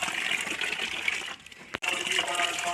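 Tap water running while food is being washed, a continuous close gush and splash that briefly dips and cuts out before resuming.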